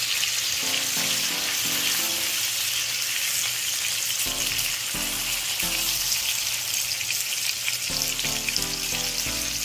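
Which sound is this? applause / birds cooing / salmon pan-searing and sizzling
salmon pan-searing and sizzling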